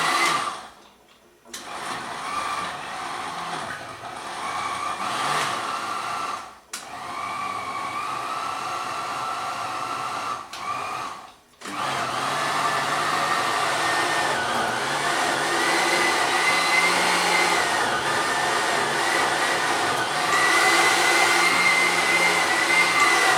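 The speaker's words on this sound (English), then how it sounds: "my duck liver in the blender just for a couple of turns" A blender pulses duck liver for a few short bursts, a loud steady motor whir broken by brief stops, with no talking.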